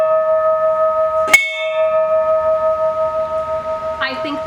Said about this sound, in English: it had this antique schoolhouse bell already installed, and I just love it. It is quite loud though